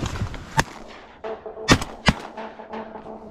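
Shotgun blasts from duck hunting in flooded corn from layout boats: a few loud, sharp reports across a few seconds, each trailing into an open-air echo.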